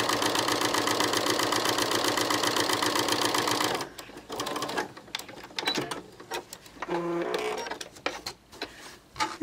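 A sewing machine fitted with an edge joining foot runs a fine edge stitch, its fast, steady mechanical whir droning loudly for a few seconds before stopping, followed by quieter clicks and handling noises.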